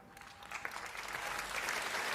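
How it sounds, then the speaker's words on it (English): An audience at an evening conference in Chicago breaks into applause to welcome a speaker, the clapping building quickly into a steady, full round with no talk. "please join me in a round of applause and welcome Dr."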